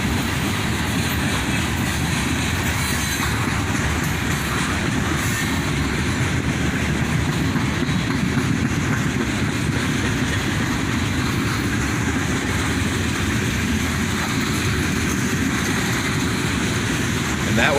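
Freight cars of a CSX train, among them an old Chicago and North Western car, roll by nearby in a steady, loud rumble with rhythmic wheel clatter and faint squeal, unbroken from start to finish.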